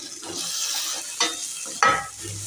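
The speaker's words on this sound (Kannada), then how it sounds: "ತೊಂಡೆಕಾಯಿ ಹಾಕಿದ ನಂತರ ಎಲ್ಲ ಒಂದ್ಸಲ ಮಿಕ್ಸ್ ಮಾಡ್ಕೋತಾ ಇದ್ದೀನಿ" Spoon stirring fried ivy gourd into a spiced masala curry in a pan, scraping strokes with a couple of sharp clanks over a soft sizzle, close and alone without talk.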